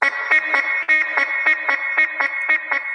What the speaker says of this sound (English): And then there's a digital delay